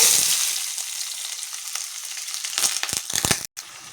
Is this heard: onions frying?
yes